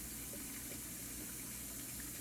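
Water runs steadily from a kitchen tap, a continuous close hissing gush that holds even and unbroken with no voices.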